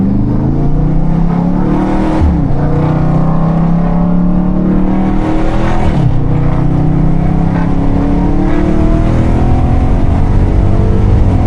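A Dodge Scat Pack revs loudly and downshifts from inside the cabin, its engine pitch climbing and dropping in sharp surges as gears change, then holding a strong steady roar.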